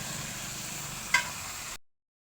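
Taro leaves (kochu saag) with salt and turmeric get stirred in a pan, giving a steady, soft frying hiss with one brief scrape of the spoon midway before the sound cuts off.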